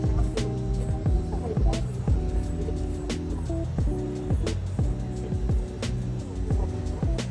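Pedicure drill spinning a ProSteril PODO M disc at 25,000 rpm on a toe, giving a steady close motor whine with brief scraping touches, while a voice talks over it.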